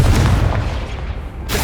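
Confringo blasting spell from Hogwarts Legacy, a loud sustained booming explosion with deep rumble that fills the whole stretch before a bright crackle returns at the end.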